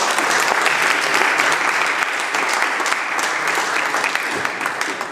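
An enthusiastic round of applause fills the House chamber of the BC Legislature as members welcome visiting guests, dense continuous clapping from many people that holds steady and eases slightly toward the end.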